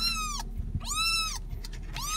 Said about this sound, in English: this little kitten is just screaming